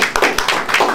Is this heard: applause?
yes